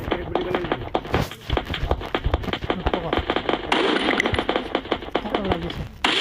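Rapid gunfire from the Free Fire video game, a fast crackling rattle of shots in quick bursts, with someone talking over the action throughout.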